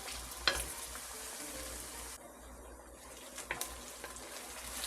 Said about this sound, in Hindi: प्याज थोड़ा सा ट्रांसपेरेंट हो गया है, धीरे धीरे ये फ्राई होता जाएगा